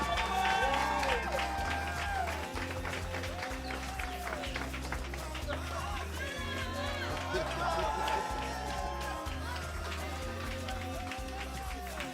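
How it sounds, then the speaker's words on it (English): Applause and cheering from an audience at a digital marketing workshop in Gugulethu as the winner is honored, a steady clapping wash blended with loud music carrying a thumping beat and sung vocals. "Let's give him a big round of applause."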